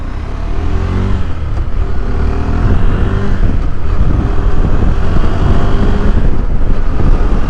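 A 2020 KTM 390 Adventure motorcycle riding on the road, a loud steady engine drone mixed with heavy wind rush, close and continuous throughout.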